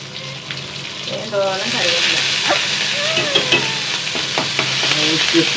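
Dried red chillies frying in a pan for chutney give a loud, steady sizzle and crackle throughout, with stirring clinks and scrapes on top and some running-water-like hiss.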